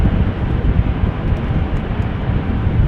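A heavy aircraft departs runway 24 at Amsterdam Schiphol in wet, gusty wind, heard as a continuous low rumbling roar mixed with wind buffeting, fairly loud and unbroken, with no voices.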